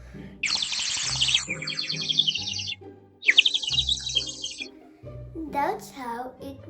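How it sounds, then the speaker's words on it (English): Antique tin penny-toy water whistle blown to make a warbling bird call, two long bursts of bright chirping trills up close, followed by a voice speaking. "Then it will make a bird sound."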